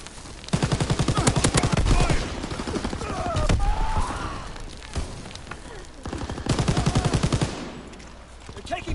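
Rapid bursts of gunfire from a PS4 online shooter, with a second heavy stretch of shots later on, loud and close, layered with in-game sounds and some voice chatter.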